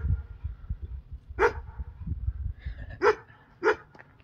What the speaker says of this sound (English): Look at the dog barking at me because I've got out.